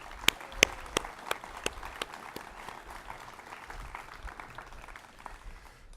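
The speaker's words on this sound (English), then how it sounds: "Let's give them both one round of applause." An outdoor Memorial Day crowd claps for a general and a singer, beginning with a few sharp, distinct claps that thicken into a moderate, fairly quiet round of applause lasting several seconds.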